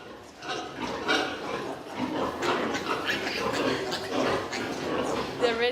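Piglets fighting over a sow's teats, with a busy mix of grunts and shrill squeals from the litter going on throughout, partly under a voice talking nearby.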